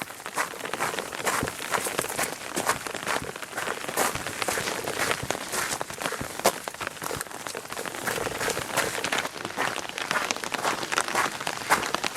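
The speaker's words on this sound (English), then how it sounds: "hopefully the rain will give out sometime soon" Rain falling on rain gear and the surroundings during a hike on the Lost Creek Wilderness loop in July, a steady close patter of drops with scattered sharper taps and no talk.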